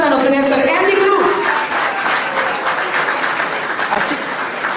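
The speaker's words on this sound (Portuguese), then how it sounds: "un fuerte aplauso para los ministros de Enseñanza y Deporte" An audience at a sports awards press conference applauds the ministers of education and sport, a broad clapping wash beneath a voice speaking over it at the start.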